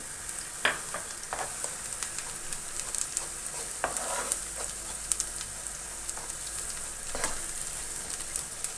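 Garlic sautés with tomato and pepper paste in a pan for a meatless zucchini dish, giving a steady close sizzle with occasional spoon scrapes and clinks against the pan.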